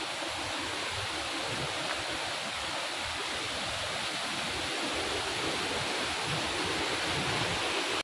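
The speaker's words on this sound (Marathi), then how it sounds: "हा इथे खाली धबधबा आहे मोठा" A large waterfall dropping off a cliff edge in a Konkan village roars as a dense, unbroken wash of falling water, loud and steady throughout.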